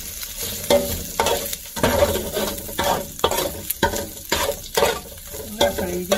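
Chistorra sausage frying in a pan for paella, a steady close sizzle broken by repeated scraping and stirring strokes of a utensil, with no talk.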